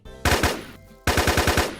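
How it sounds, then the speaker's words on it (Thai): Two loud bursts of rapid automatic gunfire from a scar rifle in a Minecraft zombie-survival server, each a quick run of punchy shots, separated by a brief pause. "ไหนขอฟังเสียงปืนสกาหน่อยสิ"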